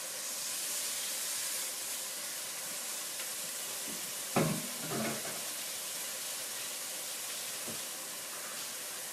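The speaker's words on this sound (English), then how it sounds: "That sizzle is what you want to listen for." A steak fillet sears in a hot pan, giving a steady broad hiss and sizzle throughout, with a brief louder burst of crackling spatter partway through as the meat settles.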